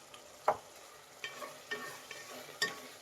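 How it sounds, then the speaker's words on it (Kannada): Spoon scraping and stirring radish sambar in a pan over medium heat, with a few sparse clinks and scrapes and a faint sizzle underneath, close and quiet, no voices. "ಮಿಕ್ಸ್ ಮಾಡಿ ಮೀಡಿಯಂ ಉರಿಲಿ ಇಟ್ಟು ಮಿಕ್ಸ್ ಮಾಡಬೇಕಾಗುತ್ತೆ"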